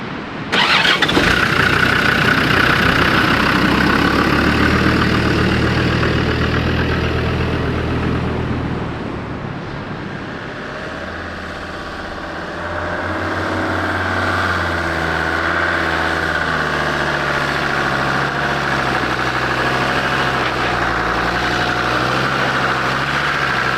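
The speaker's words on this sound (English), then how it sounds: "Now we're driving to El Sargento." Car engine running while driving along a road in Baja toward El Sargento, a steady loud low rumble throughout with a brief dip midway, no talking.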